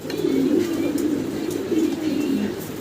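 Fancy Lahori pigeons coo continuously in low, rolling, overlapping calls, close and steady throughout, with faint background chatter.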